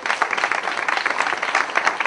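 An audience at a policy event gives a dense, steady round of applause, moderately loud and continuous, with no voices standing out.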